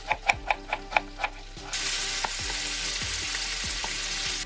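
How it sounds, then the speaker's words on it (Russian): Pork fat (salo) rendering in a dry frying pan: a few sharp taps at first, then a steady, moderately loud hiss of sizzling fat, with no voices. "Отправляю сало топиться на сухую сковородку и порежу полукольцами лук."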